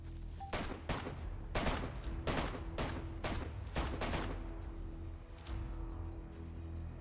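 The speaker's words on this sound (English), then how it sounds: "AK shooting, but no one's dead yet." AK gunfire in the video game DayZ: a steady run of repeated distant shots, evenly spaced and muffled under a constant low background hum, with no talking.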